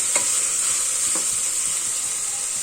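Green peas frying in hot oil for egg biryani, giving a steady close sizzle with a few soft scrapes of stirring across the short stretch.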